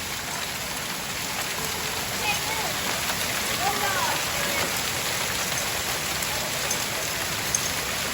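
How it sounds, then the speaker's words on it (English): Dime- and nickel-sized hail pelts garden plants and a house roof in a dense, continuous hiss of close impacts that stays loud and even throughout. "I watched this dime and nickel-sized hail just tear through the plants, bounce off the roof of my home, bounce off the windshield of my car"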